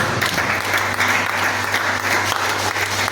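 Church congregation at a Friday teaching service clapping together, a dense sustained patter of many hands that carries steadily throughout, close and fairly loud, with faint voices mixed in.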